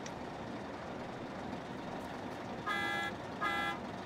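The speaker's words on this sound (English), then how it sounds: "Yeah, stop honking." A tour bus in The Sims 2 video game honks its horn twice in quick succession, faint and somewhat distant over a steady hiss of background ambience.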